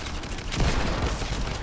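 Rapid gunfire bursts from the video game Fortnite during the Chapter 2 Season 2 live event, a dense, continuous clatter of overlapping shots that stays loud throughout with no pause.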